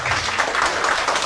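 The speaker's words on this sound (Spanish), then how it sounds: "Aplauso para la vecina." Brief applause at a children's birthday party: a short burst of continuous clapping from a small crowd, close and fairly loud.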